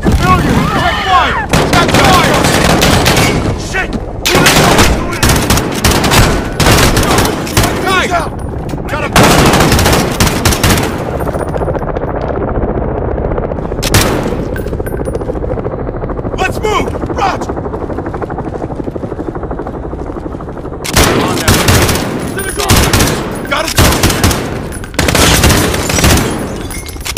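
Gunfire in the Call of Duty Modern Warfare video game: loud, dense bursts of automatic and single shots roll in repeated volleys, with a helicopter-like rotor drone beneath and shouted voices between.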